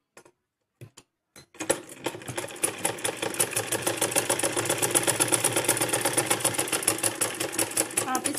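A sewing machine runs a steady rapid stitching line along a double-layer designer long kurti, starting after a few short isolated clicks and then humming loudly and continuously for several seconds.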